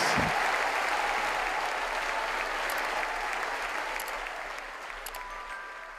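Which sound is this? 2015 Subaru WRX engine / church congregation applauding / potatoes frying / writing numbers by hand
church congregation applauding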